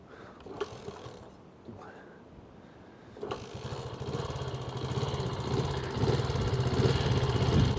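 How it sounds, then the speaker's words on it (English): A small Honda four-stroke motorbike engine starts and settles into a steady, throbbing run that grows louder and fuller over several seconds, heard close by with no talk. "I think it sounds quite tough for such a little bike"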